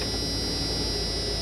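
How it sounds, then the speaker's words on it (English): A steady, piercing electronic buzz drones without a break, loud and unchanging: the warning buzzer of a 1991 Ford Econoline Sportsmobile camper van. "Boy, that's an annoying buzzer."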